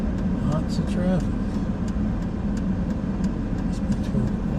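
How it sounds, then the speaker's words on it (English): Steady road traffic in Minot, North Dakota, with cars rolling past in a continuous broadband wash of tire and engine noise, fairly close and without clear gaps, and a voice faintly present underneath. "Lots of traffic."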